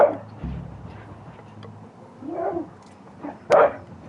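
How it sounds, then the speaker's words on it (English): A dog in the medieval game Kingdom Come: Deliverance gives a few scattered barks and yips between quiet stretches, the last bark sharp and loud. "Crazy dog. You're a crazy dog, you are."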